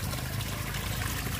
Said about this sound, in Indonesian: Wah, ada air terjunnya, guys.